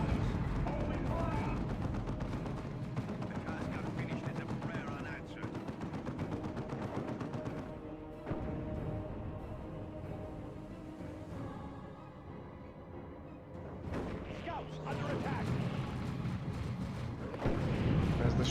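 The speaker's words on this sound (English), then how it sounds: "The shotgun blast protecting the scouts." Dawn of War II: Retribution battle with shotgun blasts, dense bursts of gunfire and heavy explosions packed together, loud and continuous throughout, with a commentator talking over the din.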